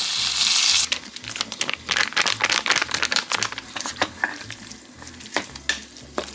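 Bacon-wrapped mochi with cheese frying in oil in a home kitchen, a steady loud sizzle broken by repeated crackling and stirring scrapes, close up with no talk.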